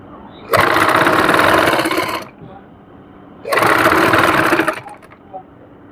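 Two bursts of a sewing machine stitching trouser fabric, each a loud, fast rattling whir of about two seconds, separated by a quiet pause with faint low hum.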